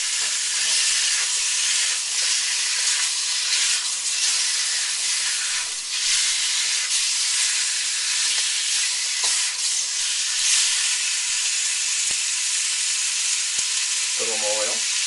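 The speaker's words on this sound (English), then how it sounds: "you want to brown the spare ribs first before you add your garlic, ginger, and black bean mixture" Pork spare ribs browning in hot oil in a pan give a loud, steady sizzle that runs the whole time, with a short burst of clatter near the end.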